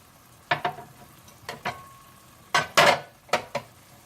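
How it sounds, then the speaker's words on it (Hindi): Aloo baingan, a potato and eggplant curry, being stirred in a pan after fresh coriander goes in, with a few separate scraping strokes and soft clatter. No one talks. "अब इसमें मैं हरा धनिया डालकर मिक्स कर लूंगी"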